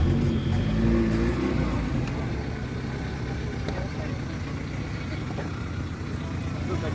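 Engine of a car that has just had new spark plugs fitted runs steadily at close range, with a loud low rumble that eases slightly after the first seconds, while people talk over it.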